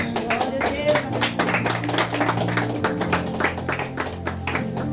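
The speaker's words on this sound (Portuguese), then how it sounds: "dar uma linda salva de palmas para Jesus" A church congregation claps along in rhythm over music playing, with the strikes standing out as a steady beat through the song.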